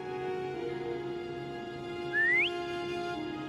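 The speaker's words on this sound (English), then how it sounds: "Try whistling." A single short rising whistle in the video game Wuthering Waves, clear and close, sliding upward over a steady low ambient hum with no speech.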